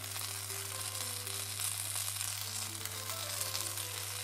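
Fried onions going into sizzling kashk-e bademjan, a Persian eggplant and kashk dish, in a pan: a steady, dense frying crackle and hiss, continuous and fairly loud, with a low constant hum underneath.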